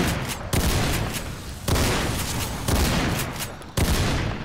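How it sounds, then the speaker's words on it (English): Shotgun blasts in the video game Half-Life: Black Mesa, four loud booming shots spaced about a second apart, each with a sharp attack and a sustained rumbling tail that fills the gaps, with continuous game noise underneath. "I can aim with the shotgun again!"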